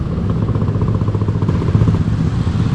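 A group of aggressively tuned motorcycles, with an ADV 160 among them, rumbles steadily together on the road, a dense continuous engine drone with some clatter and no talk.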